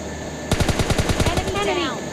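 Gunfire at a bot in PUBG Lite: a rapid burst of about a dozen evenly spaced, loud automatic shots, followed by a fading ringing tail.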